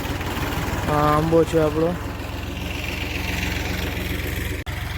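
A tractor engine idles on a farm with a steady, low, even chug throughout, while someone briefly talks over it near the start.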